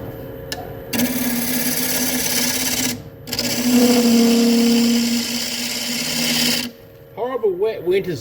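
A half-inch spindle gouge cuts into spinning camphor wood on a lathe for a small pedestal bowl, producing a steady loud humming scrape in two long passes separated by a short pause, followed by brief speech.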